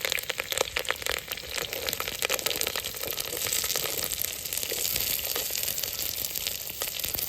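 Onion fries in oil with mustard seeds, garlic and curry leaves for a village-style fish curry, making a dense, constant crackling hiss close by with no voices.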